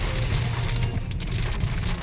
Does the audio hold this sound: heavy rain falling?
yes